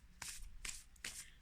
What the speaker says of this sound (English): I'm just going to give them a shuffle this way now